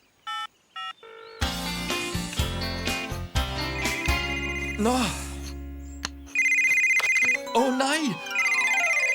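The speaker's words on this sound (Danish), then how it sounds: "Nej, jeg ringer til ham igen." Cartoon telephone beeping through a run of dialing tones, then ringing in a steady repeating pattern over a busy music bed, with brief spoken words at the start.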